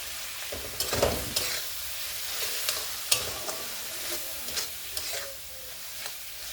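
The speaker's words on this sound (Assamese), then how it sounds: "গুড় আৰু চেনিখিনি এড কৰাৰ পিছত মই আৰু 1 পৰা 2 মিনিট টাইম ভালকৈ আনাৰসখিনি ফ্ৰাই কৰি ল'ম" Pineapple pieces with jaggery, sugar and a few raisins are stirred and fried in a pan, with soft scraping stirs and a faint sizzle coming in short, uneven bursts.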